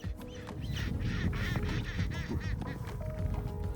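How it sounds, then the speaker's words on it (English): A colony of gentoo penguins in Antarctica calls in a dense chorus of overlapping honking, braying cries, close and busy throughout, with no talk. "This is a colony of gentoo penguins, one of 4 species of penguin that live on the Antarctic continent"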